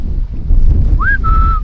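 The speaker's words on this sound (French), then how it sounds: "Le vent commence à monter." Strong wind rising outdoors by the sea, a loud low buffeting roar hitting the microphone, with a thin whistling tone sliding up and holding near the end.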